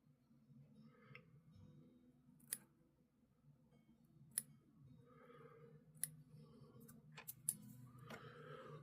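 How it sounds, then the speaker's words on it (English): Curved scissors snipping fly-tying material for a Puterbaugh Caddis, four sharp isolated clicks spaced a couple of seconds apart, faint and close over a quiet room hum. "I'll take my curved scissors there."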